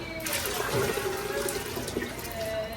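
Water runs from a kitchen tap into a pot or sink, a soft steady splashing and trickling, close and moderately quiet for a few seconds, with some background clatter.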